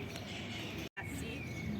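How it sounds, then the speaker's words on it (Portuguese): Small birds sing outdoors in a continuous, faint chorus of high chirps and tweets over a dense, steady ambient background, interrupted by a brief dropout partway through. "eu me despeço nesse momento com os passarinhos cantando"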